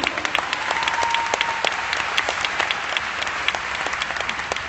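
Steady, loud applause from a large convention audience in Chicago, many hands clapping continuously and evenly throughout, with a few sharper individual claps standing out.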